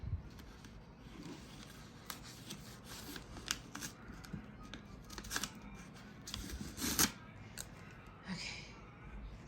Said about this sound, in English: I'm just gonna cut right through it